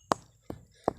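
A small stone knocked on the ground during a search for buried treasure, three sharp, evenly spaced knocks, close and clear over a quiet background.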